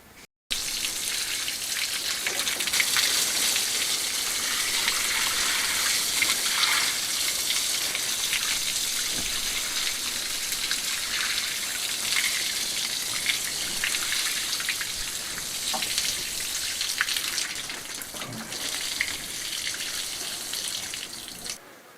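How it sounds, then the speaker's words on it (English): A watering can pours water over the joints of new courtyard paving, giving a steady, close splashing hiss that runs continuously for about twenty seconds with only slight swells and no voices. "we'll get the watering can out, water them in"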